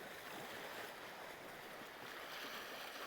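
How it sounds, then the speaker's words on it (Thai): Sea waves washing along a Danish shore in August, a soft, continuous rush of surf with gentle swells, faint and distant, with wind mixed in. "ก็เป็นบรรยากาศท้องทะเลในวันนี้นะคะ"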